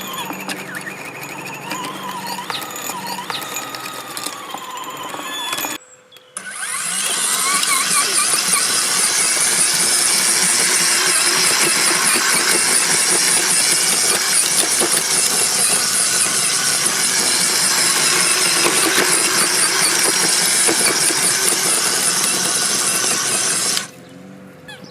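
A Parkside PABH B2 40V brushless cordless tiller with a 30 cm working width runs at speed 1. Its loud, steady whirring drone starts after a brief pause, holds for about eighteen seconds, then cuts off.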